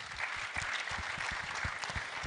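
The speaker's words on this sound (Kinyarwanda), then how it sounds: "Uwonisha twamukomera amashyi." An audience at a panel event applauds with steady, rhythmic clapping from many hands, moderately close and fairly soft, with no one speaking over it.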